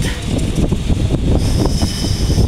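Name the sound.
wind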